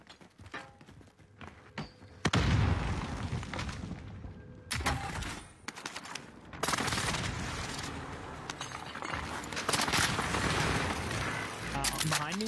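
Video game combat with an airstrike: loud explosive bursts and crackling gunfire rolling in waves, mechanical clatter between them, with a player talking over the action.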